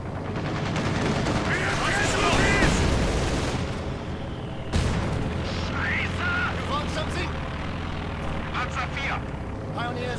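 Gunfire and explosions crackle through a WWII real-time strategy battle, with bursts of shooting and distant aircraft-like drone, a loud impact near the middle, and someone talking over much of it.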